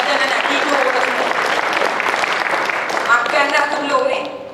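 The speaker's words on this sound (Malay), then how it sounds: "saya minta yang dalam dewan ni tepuk tangan untuk diri sendiri sekejap" An audience in a hall applauds itself, a loud, dense burst of many hands clapping continuously and then tapering off, with voices mingled in the crowd noise.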